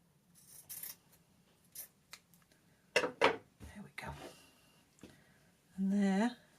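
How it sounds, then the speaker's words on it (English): A few quick scissor snips cut through soft fleece close by, trimming the ends of a dog tug toy, interspersed with quiet handling noises and a short spoken phrase. "And I'll trim these ends as well."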